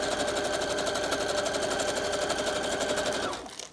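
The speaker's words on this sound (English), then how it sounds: "I'm just gonna sew this kind of close to the seam" Sewing machine stitching close to the seam of a journal page pocket, a continuous fast rattling hum of the needle running steadily at close range before stopping abruptly near the end.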